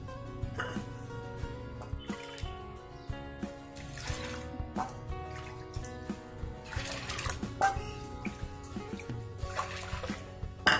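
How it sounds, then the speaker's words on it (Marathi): Water poured into a pot of washed chana dal for soaking, a soft running splash beneath steady background music. "आता यामध्ये आपण पाणी घालून घ्यायचे।"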